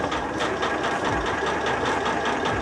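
A sewing machine stitches slowly around the curve of an appliqué heart on a cushion cover, giving a steady, close, even mechanical whirr with a fast regular pulse and no talking.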